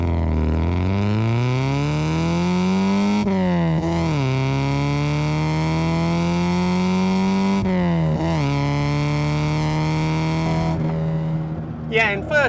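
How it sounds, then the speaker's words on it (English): An Alfa Romeo 33 1.7 Green Cloverleaf engine pulls hard through the gears from inside the car, a loud rising drone that climbs, briefly drops at each shift, and climbs again. "Just enjoy that engine."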